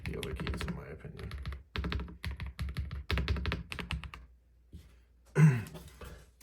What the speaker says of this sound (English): The spacebar there, after we installed the dampening, really sounds a lot more like the other keys in my opinion.